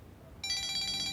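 A telephone begins ringing with an incoming call, a bright electronic ringtone that cuts in sharply after a short quiet moment and repeats its pulsing pattern, clear and fairly close, with no one speaking.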